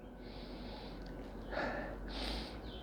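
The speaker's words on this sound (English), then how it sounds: "let's take a sniff of the aroma of this one" A few quiet, close sniffs through the nose at a hazy IPA beer, short inhalations with brief pauses between them.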